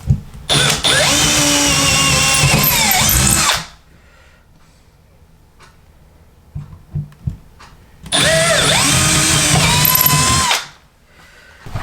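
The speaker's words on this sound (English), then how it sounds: "Here's the drill." A power drill driving screws to install cabinet drawer pulls whines loudly and close in two sustained bursts of a few seconds each, separated by quiet handling clicks and taps.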